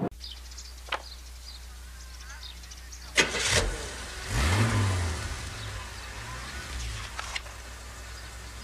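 Chevrolet Opala car engine in a GM advertisement, with a sharp start-up burst, a rising rev and a low rumble among scattered clicks and background sounds, heard faintly at a distance.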